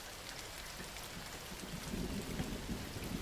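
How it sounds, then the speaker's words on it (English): Heavy rain drums steadily on a tent roof, a dense, constant hiss with low rumbles of thunder building in the latter half. "The sound of the rain hitting the roof of my tent was constant, deafening"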